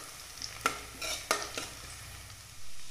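Onions fry in a pan toward browning, a soft sizzle punctuated by several distinct scraping stirs of a spatula, fairly quiet and close, without any speech.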